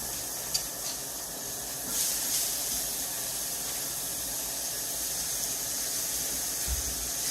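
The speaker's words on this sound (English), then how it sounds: "it's gonna cook and sizzle and do its amazing stuff" Bacon sizzles in a pan with a steady hiss and occasional small pops and crackles, heard close up without talk.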